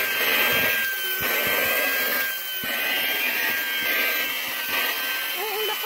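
A Mi mini handheld vacuum cleaner runs loudly and steadily up close, a constant high whine and roar, with faint voices underneath.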